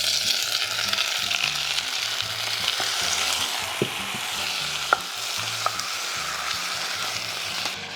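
Garlic sautés in a hot pan, a steady close sizzle with a few sharp clicks and taps from stirring, and no talking.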